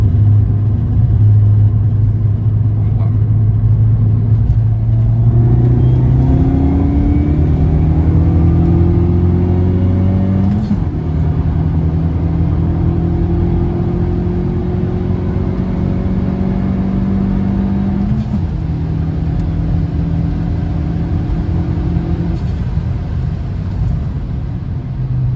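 A Peugeot 208 GT with 180,000 km accelerates on a highway, its loud engine climbing through the gears in rising sweeps, with two shifts, over steady road rumble.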